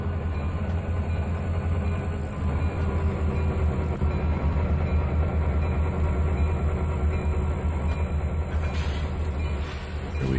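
Railroad cars in the video game Trainz 2019 are pushed along through a small yard with a continuous rumble and low mechanical drone, faint clanks and rattles scattered throughout, steady and moderately loud.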